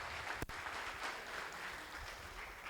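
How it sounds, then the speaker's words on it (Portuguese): A lecture audience claps together in a steady, fairly quiet round of applause that holds at an even level, with one sharp knock near the start. "Uma salva de palmas para você, pela sua força e pela sua coragem e persistência."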